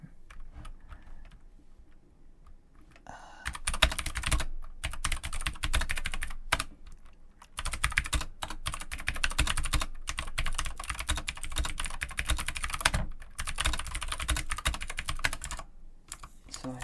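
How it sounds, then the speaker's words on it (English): Rapid, steady keyboard typing with occasional mouse clicks while playing The Binding of Isaac, close and continuous, pausing briefly a few times before resuming. "you get to hear more mouse and keyboard sounds in the meantime"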